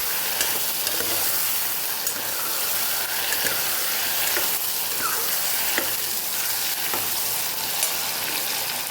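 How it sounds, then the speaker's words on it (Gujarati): Potatoes sautéed in hot oil with hing for a festive potato curry, a steady close sizzle broken by regular scrapes and clinks of stirring, with no talking over it. "બટેકાને સાતળી લઈશું."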